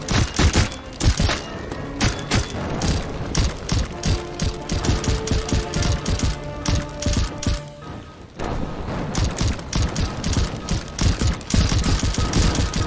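Rapid, repeated gunfire from a VR fantasy dungeon game, Dungeon Knight, with dense clusters of sharp shots and thuds running almost continuously for the whole stretch, loud and close, with a short lull in the middle.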